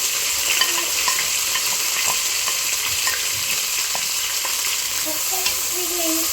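Mint and coriander frying in hot oil, a continuous bright sizzle with small crackles and occasional spoon clicks, close and steady, no voices.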